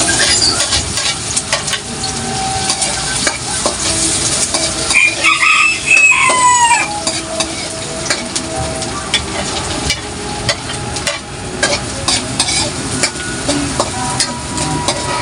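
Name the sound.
sautéing onion, garlic and ginger in a pan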